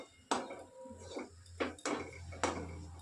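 A spoon stirring carrot filling for Bengali patisapta in a pan, giving four distinct metallic knocks and scrapes against the pan, close and fairly clear with quiet gaps between.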